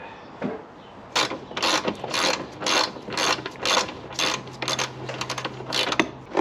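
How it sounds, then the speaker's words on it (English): Ratchet wrench clicking in repeated bursts as it loosens a 10 mm bolt on a 2012 Ford F150 during vacuum pump replacement, with sharp close ratcheting strokes and brief pauses between them, and no talk. "we got another 10 right there, which I'm gonna have to use a ratchet on that"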